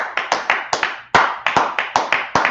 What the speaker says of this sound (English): Clap it up for the class.